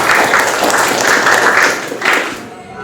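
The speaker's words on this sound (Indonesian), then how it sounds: "Tepuk tangan untuk Levi" Classroom applause for a student, a steady burst of many hands clapping close by with voices mixed in, fading out near the end.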